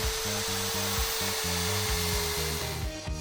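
A power drill whirs in short repeated bursts while building a mini treehouse, its motor pitch stepping up and down, with a steady high hiss running underneath.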